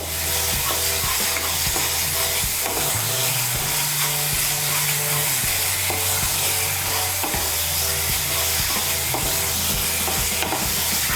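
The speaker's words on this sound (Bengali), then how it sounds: "মিশিয়ে নিয়ে মশলাটাকে আরেকটু কষিয়ে নেব।" Spiced masala with green peas frying in a pan, a loud continuous sizzle with repeated scraping and stirring clatter throughout, no voices.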